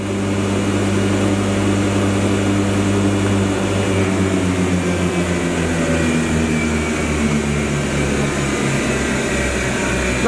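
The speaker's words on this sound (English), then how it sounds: "Beside the camera, it's a very noisy machine in comparison to the little Wilson." A five-head tenoner woodworking machine runs in a workshop, a loud continuous mechanical drone with steady low hum and tonal whine, unbroken throughout.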